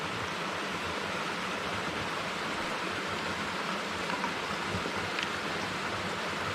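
A waterfall beside a mountain wild camp, a continuous dense roar of rushing water, steady and fairly loud with no pauses or voices.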